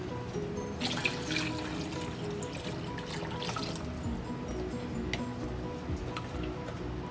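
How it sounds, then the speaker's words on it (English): Water pouring into a crock pot of soup with beef stock, a steady close splashing trickle that runs throughout with small drips and clinks on top. "We're gonna add 4 cups of water."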